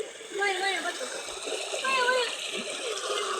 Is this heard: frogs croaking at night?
no